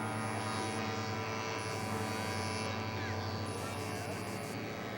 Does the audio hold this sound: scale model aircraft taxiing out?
yes